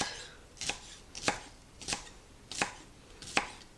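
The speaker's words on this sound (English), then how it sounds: "cut these into small pieces. Go on into the whites too" A knife chops green onions into small pieces on a cutting board, five crisp, evenly spaced strikes about two-thirds of a second apart, close and clear with no talking.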